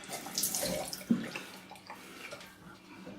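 Warm water runs from a tap into a sink for face washing, a soft close splashing and trickling with a few brief louder splashes.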